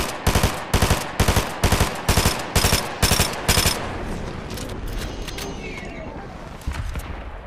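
Rapid bursts of video-game gunfire crack out loud and close in a regular rhythm, around a dozen shots, then give way to quieter scattered game sounds.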